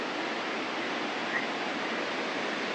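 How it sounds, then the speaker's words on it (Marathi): Water from a Konkan village waterfall near Tivare and Nayari roars in a steady, dense, continuous rush, with no voices over it. "पाण्याचा आवाज बघा किती जोरात येते"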